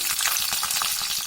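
Mustard seeds, chana dal and green chilies fry in hot oil, making a steady, bright sizzle with a faint stirring rhythm through a brief, close moment.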